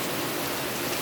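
Heavy rain pours down steadily as a thunderstorm sets in, a dense, loud, unbroken hiss of water with no voices over it.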